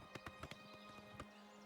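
Horse hooves clip-clopping in The Elder Scrolls IV: Oblivion as the mount scrambles over rocky mountain ledges; several sharp, irregular hoof strikes, fairly quiet over a steady background tone.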